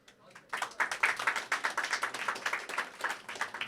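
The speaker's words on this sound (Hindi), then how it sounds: "चलिए आपने तालियां बजा दी हैं" An open mic audience claps and applauds after a first-time performer, a quick burst of dense, close hand claps that starts abruptly and carries on steadily with light crowd murmur.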